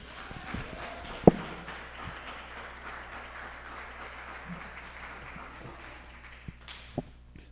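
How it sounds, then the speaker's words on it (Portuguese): Congregation at a church service applauding, a soft scattered clapping spread through the hall at moderate distance, with a few sharp knocks and thumps standing out over a low steady hum. "Quem pode, filho, aplauda ao Senhor."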